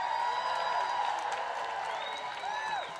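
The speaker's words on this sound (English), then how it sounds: "Let's give a round of applause." At a school rally in Texas, a crowd applauds and cheers loudly, with sustained clapping, scattered whoops and rising shouts over about three seconds.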